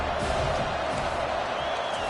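Stadium crowd in a football video game roars steadily during a tense fourth-down moment, a dense wash of cheering and whoops sustained throughout.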